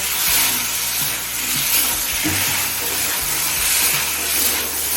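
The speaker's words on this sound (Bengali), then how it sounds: "এবার এই গাঁটি কচুটা মশলার সাথে কিছুক্ষণ সময় নিয়ে কষিয়ে নেব" Chunks of gati kochu taro frying with spices in a pan, a steady hissing sizzle with occasional scraping stirs, close and fairly loud throughout.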